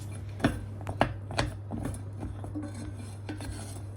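Sago and water being stirred in a pot for making black coconut-shell pottu, with a few sharp scraping knocks of the spoon against the pot early on, then quieter rubbing strokes over a steady low hum, close by.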